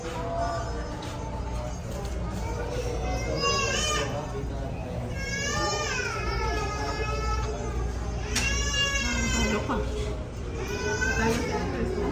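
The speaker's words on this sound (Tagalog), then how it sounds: "Natalo ka sa ingay ng baby." A baby in a home setting cries and fusses in repeated rising wails over the steady background, while adults talk nearby.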